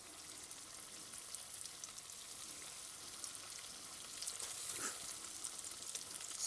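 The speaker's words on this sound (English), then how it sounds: "Now it's time to move over there to fry up the sweetbread." Sweetbread fries in hot oil with a steady, even sizzle that swells slightly toward the end, moderately quiet and heard alone.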